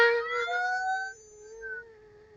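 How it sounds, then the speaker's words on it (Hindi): A naval base warning siren wails in a single long, steady tone that dips slightly in loudness partway through, with no voices. "वो सायरन जो शायद कोई भी सेलर अपनी सर्विस में सुनना ही नहीं चाहता"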